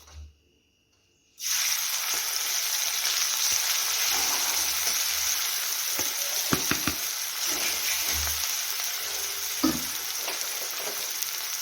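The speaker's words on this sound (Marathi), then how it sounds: "मस्त ठेचा फ्राय करून घेऊया" Crushed chili thecha hits hot oil after a brief quiet moment, bursting into a loud, steady sizzle that continues with occasional spatula scrapes and taps.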